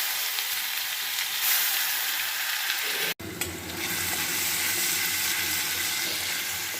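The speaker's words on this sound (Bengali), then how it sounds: "এবার এই তেলের মধ্যে মশলাটা দিয়ে দিই" Whole cardamom, cinnamon and spice masala fry in oil left from frying prawns, a steady loud sizzle that drops out for a split second midway, then resumes with stirring scrapes.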